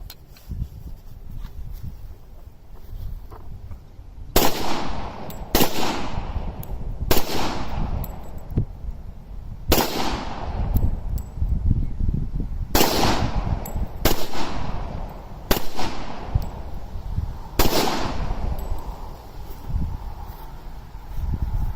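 Rock Island Armory M1911 A1-FS pistol fired outdoors, about nine sharp, loud shots spaced irregularly a second or two apart, each with a brief ringing tail over light background noise.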